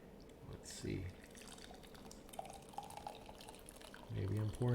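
Tea being poured into a cup or pot, a short liquid trickle and drip near the start and a louder filling stream at the end, with quiet room noise between.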